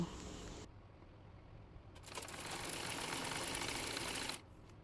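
Sewing machine stitching kameez fabric with lace, a whirring mechanical run that starts after a brief pause and ends abruptly, fairly close.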